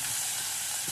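Onions frying in hot oil with garlic in a pot, a steady, close, continuous sizzle and hiss with no talking.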